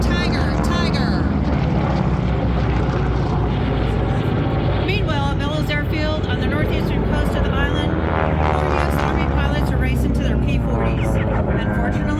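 Warbird propeller aircraft roaring overhead during a Pearl Harbor reenactment at an air show, a loud continuous engine drone rising and shifting in pitch as planes pass, with a voice talking over it.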